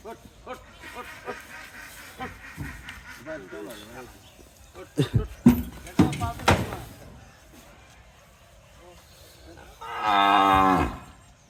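A loud, drawn-out cow moo near the end, after stretches of people talking and a few sharp knocks and bangs, near a toll gate at Kamarkhali, Madhukhali, Faridpur.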